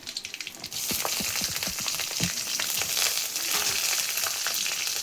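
Ginger and garlic sauté in hot coconut oil with green chillies and curry leaves, giving a loud, dense, close sizzle with crackling pops that starts suddenly and keeps going steadily.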